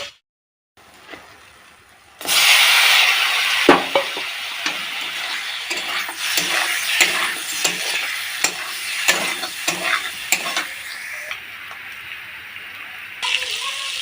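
Potatoes fry in oil for a rohu fish curry, a loud steady sizzle starting after a quiet moment, broken by repeated scraping clicks of a spatula stirring the pan, close and without talk.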